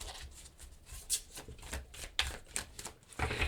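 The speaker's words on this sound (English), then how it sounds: "So one more shuffle" Quiet, close riffling and flicking of a tarot deck being shuffled, with soft irregular snaps and rustles.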